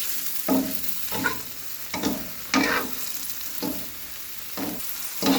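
Vegetable leaves stir-fried in a pan, crackling sizzle with repeated scraping stirs at a loose, regular rhythm, close and fairly loud with no talking.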